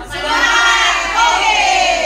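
A large crowd shouts a single word together in loud unison, a sustained roaring chorus from many voices at a positive-culture training gathering.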